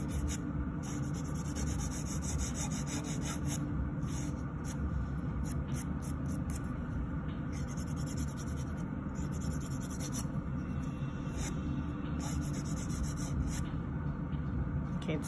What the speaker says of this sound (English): Not really filing from underneath too much, but just starting that movement from underneath.